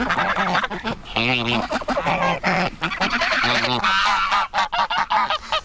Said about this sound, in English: tell us how the geese fit into the system